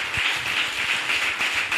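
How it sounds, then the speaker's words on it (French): A church congregation claps together in steady, fast applause, a dense and even patter of many hands filling the room, with faint voices mixed in. "Applaudis pour le roi des rois."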